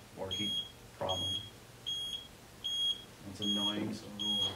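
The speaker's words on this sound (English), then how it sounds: "it'll protect itself, shut down, and then give you an audible alarm" A heat pump's low-water alarm beeps repeatedly in short, evenly spaced high-pitched chirps, with faint background noise between beeps.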